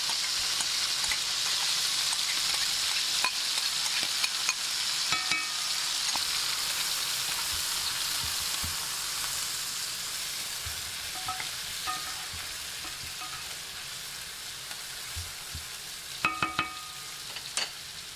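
Garlic and onion sizzle steadily in hot oil in a pan, a dense close-up hiss that fades slightly over time, broken by occasional scrapes and taps of a stirring utensil.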